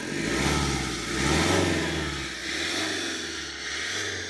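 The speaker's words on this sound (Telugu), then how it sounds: "ఇప్పుడైతే ఇంజన్ ఆన్లో ఉంది, నాకు తెలిసి మీకు సౌండ్ వినిపిస్తుంది అనుకుంటున్నాను." A car engine runs steadily nearby, a low hum that swells and eases in gentle waves of revving, with no talking.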